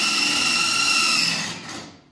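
A power drill whirs steadily at close range for a couple of seconds, then its pitch drops as it spins down and stops.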